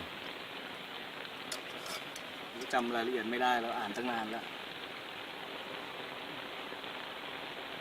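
Steady rain falls throughout as a dense, even hiss, with someone talking briefly over it in the middle.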